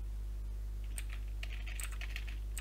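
Fingers tap on a computer keyboard in a quick, irregular burst of clicks, faint and close against a steady low hum, with no voices.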